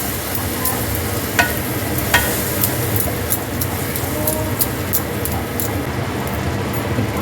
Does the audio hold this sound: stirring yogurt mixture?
yes